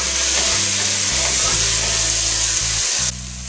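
Brandy hits caramelized onions in a pot and sets off a loud, hissing sizzle up close, steady for about three seconds before easing slightly, with a low mechanical hum underneath.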